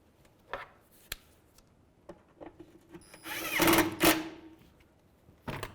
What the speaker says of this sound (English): what we can do now is start to reinstall our bolts